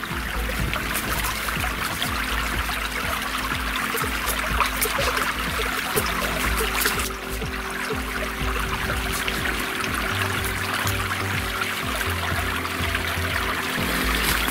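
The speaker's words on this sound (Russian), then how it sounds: "Тут речка течет." A small river runs over a little waterfall in early spring, with a steady, close rushing and splashing of water that continues unbroken, alongside low rumbles and occasional faint thumps.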